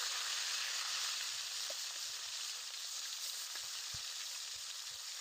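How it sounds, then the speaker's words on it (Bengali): Rui fish frying in oil in a wok gives off a steady, even sizzle throughout, with a few faint low knocks underneath. "কড়াইতে তেল দিয়ে মাছগুলো দিয়ে দেব।"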